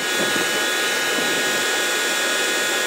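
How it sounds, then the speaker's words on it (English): Strong cold wind blows outdoors during a well pump replacement, a loud steady roar and buffeting rush against the microphone, unbroken throughout with no talk. "the wind is whipping here, as you can hear"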